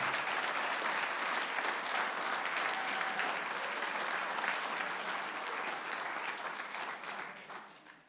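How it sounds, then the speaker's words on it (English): Sustained applause from a concert audience at a spring band concert, a dense, loud wash of many hands clapping at once that holds steady before tapering off at the end. "Give them a round of applause."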